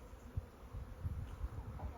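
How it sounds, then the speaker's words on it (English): Faint, low buzzing of bees drifts through a quiet scene, with soft irregular bumps and rustles and no clear talking. "There's literally bees everywhere."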